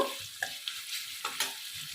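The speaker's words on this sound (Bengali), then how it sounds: "টমেটোটা খুব ভালো করে লাল লাল করে ভেজে নেব" Chopped tomatoes sizzling and crackling in a hot pan, with a few light spoon scrapes and taps as they are stirred; steady frying hiss throughout.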